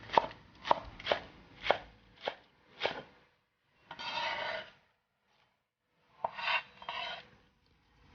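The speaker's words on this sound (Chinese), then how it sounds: "最后再切1块钱的葱花。" Green onions chopped with a knife on a board, six crisp rhythmic chops followed by two longer scraping sweeps of the blade, close and clear with no voices.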